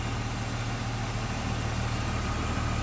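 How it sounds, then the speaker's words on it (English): A 1999 BMW M3 Convertible engine idles with the air conditioning on, producing a steady, even, close hum without voices. "You're going to hear the compressor kick on and off."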